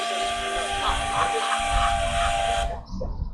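A loud, sustained steam train whistle blares over rumbling train noise close by, then cuts off abruptly, leaving quieter ambient sound behind.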